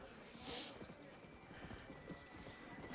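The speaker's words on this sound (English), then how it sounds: "we just take our horse and we ride it into Blackwater" Horse hooves clip-clopping in the video game Red Dead Redemption: Undead Nightmare as the rider heads toward the town of Blackwater, quiet rhythmic thuds with a brief whinny near the start and some game ambience.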